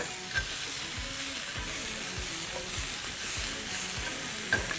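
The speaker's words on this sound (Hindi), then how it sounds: "इसमें जाएंगी हमारी ब्लांच की हुई सब्जियां, लिटिल टॉस अगेन" Blanched vegetables tossed in a hot wok for garlic fried rice, with a steady sizzle and repeated scraping, clanking stir strokes in an even rhythm, close and moderately loud, with no talking.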